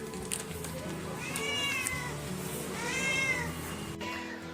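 Several house cats meow in drawn-out, rising and falling calls, two main cries a couple of seconds apart plus shorter chirps, close and fairly loud over a soft room background.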